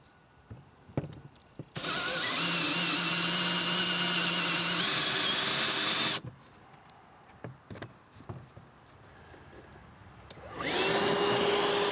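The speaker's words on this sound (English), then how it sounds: "I have a 3/4 inch Forstner, and so I'm just going to go ahead and get something in here" A drill spins a 3/4 inch Forstner bit to cut countersinks while a twin air compressor kit is installed, giving two loud, steady whining bursts of several seconds each with quieter handling noises between them.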